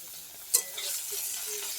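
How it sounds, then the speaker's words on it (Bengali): Green chillies frying with prawns in hot oil in a kadai, a steady close sizzle with one sharp clank of stirring partway through. "এবার আমি লঙ্কাগুলো যাতে একটু ভাজা হয়ে যায় তার জন্য আমি চেষ্টা করছি"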